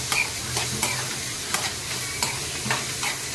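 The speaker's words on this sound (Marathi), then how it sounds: "त्यानंतर कांदा टाकायचा आहे कांदा ब्राऊन होईपर्यंत हे करून घ्यायचं" Chopped onion sizzles in hot oil in a pan while a spatula scrapes and stirs it in a steady rhythm of sharp strokes, cooking until brown for a Konkani-style fenugreek leaf dish; no voices.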